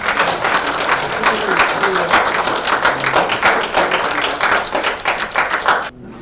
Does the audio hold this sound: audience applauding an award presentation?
yes